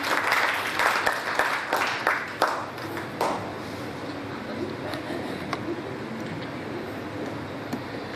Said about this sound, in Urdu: زوردار تالیوں سے تبسم فاطمہ کا استقبال کیجیے